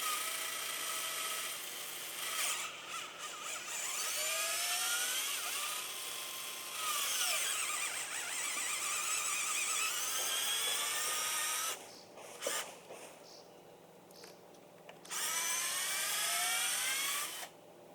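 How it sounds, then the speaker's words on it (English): A power drill bores pilot holes for lag screws into dock wood during a dock repair, a loud sustained whirring whine in several long runs with short pauses between them, close and alone. "I drilled pilot holes for the lag screws that would fasten it to the dock."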